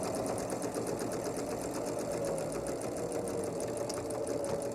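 A sewing machine runs steadily while chain piecing fabric for a flower-pattern table runner, its rapid needle clatter forming an even, continuous close-up whir throughout, with no voices.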